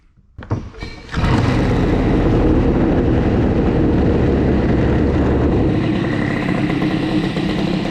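A CPI scooter engine fitted with an Airsal 70 kit and rejetted carburettor starts up and settles into a loud, steady idle, a continuous close buzzing drone with no talk.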